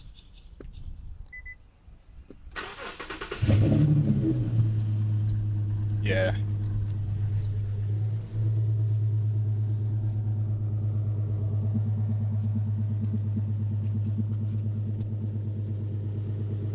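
A 3.7-litre Infiniti Q50 engine with mufflers deleted cranks and catches with a loud roar, then settles into a steady, deep idle; a person speaks briefly nearby.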